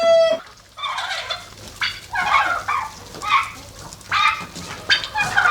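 Village turkeys fighting in the morning, with a quick squawk and then a run of loud, close gobbles and agitated fowl calls in repeated bursts and no talking.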